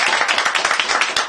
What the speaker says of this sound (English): Clap it up one time.